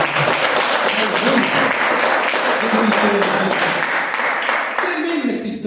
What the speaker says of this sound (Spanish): Le damos un aplauso a esta palabra de Dios.